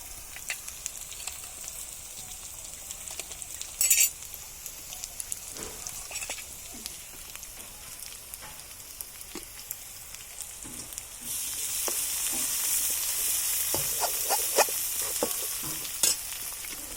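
Cauliflower pieces frying in hot oil in a home kitchen, a soft steady sizzle with stirring scrapes and clinks, growing into a louder, denser hiss in the later part.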